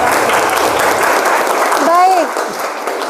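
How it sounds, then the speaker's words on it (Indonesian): A class applauds a student group with dense, steady clapping throughout, while a voice speaks briefly over the applause midway. "Tepuk tangan dulu untuk kelompoknya."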